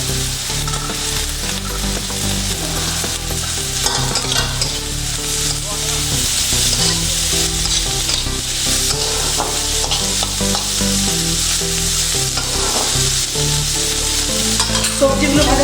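Chopped vegetables, including spring onion and beans, fry for chicken soup in a pan while being stirred: a steady, fairly loud sizzle with scraping stir strokes runs throughout, and no one speaks.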